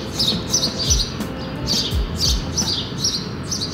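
Small birds chirp in quick repeated bursts close by, steady and fairly loud over a rumbling background with low thuds, no talking.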